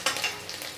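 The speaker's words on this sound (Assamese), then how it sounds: "এইখিনি ৰংচোৱা হোৱালৈকে মই ভাজি থ'ম" Food fries and is stirred in a pan while cooking Labeo bata fish, a quick soft sizzling hiss with a brief scraping stir, faint and close.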